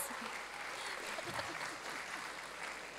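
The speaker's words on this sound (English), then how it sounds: "Give her a round of applause." Audience at a convention voice-actor panel applauds steadily for the whole stretch, a dense, even wash of clapping heard from within the crowd with no voices over it.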